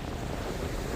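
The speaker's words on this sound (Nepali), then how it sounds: "एकदम बहुत हावा चलिरहेको छ, एकदम खाली छ यो" Strong wind blasts across an empty beach in Kerala, a steady, loud roar of gusts buffeting the microphone, with surf noise beneath and no voices.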